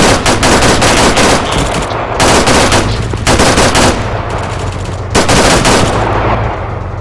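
Sustained automatic gunfire in Arma 3 during a vehicle push, loud bursts of machine-gun fire rattling almost continuously with brief gaps between volleys, close and dominant.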